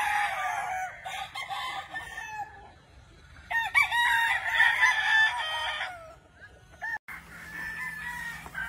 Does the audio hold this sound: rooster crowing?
yes